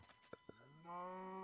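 A cow moos in Minecraft, one drawn-out low tonal moo rising after a couple of faint clicks, fairly quiet and alone.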